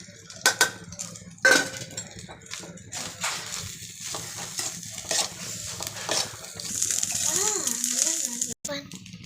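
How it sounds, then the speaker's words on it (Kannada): A spoon scrapes and clinks against a pan while egg rice is mixed with coriander leaves, irregular metallic taps and stirring scrapes at close range under a person speaking. "ಎಲ್ಲ ಮಿಕ್ಸ್ ಮಾಡ್ಕೊತಾ ಇದ್ದೀನಿ"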